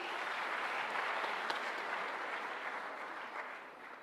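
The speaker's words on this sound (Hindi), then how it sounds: "जोरदार तालियां हो जाए इनके लिए।" A crowd at an annual celebration event in India applauds steadily, a dense wash of many hands clapping at an even level that tapers slightly toward the end.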